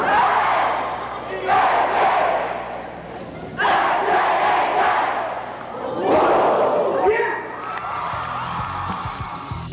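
High school pep assembly crowd at a 1998 school event shouts a cheer in unison, several loud rhythmic group yells echoing in a gym with thumps between bursts.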